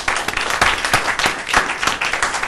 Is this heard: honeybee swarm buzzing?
no